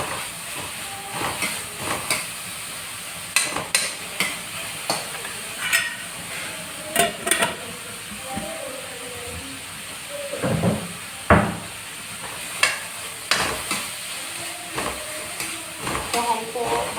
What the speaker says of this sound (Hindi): अब इसको अच्छी तरह से भूनते रहेंगे